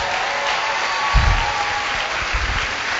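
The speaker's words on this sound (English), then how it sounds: "I think we should give Jean-Paul Gonzalez another round of applause" Audience applause at a school district meeting, moderate and somewhat distant, in short bursts of clapping over a steady room hum.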